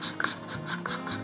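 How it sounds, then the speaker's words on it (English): Hand scraper stripping leftover old finish from an oak chair: quick, rhythmic rasping strokes, about five in close succession, heard up close with no talk. "I can just use the scraper to kind of get that off."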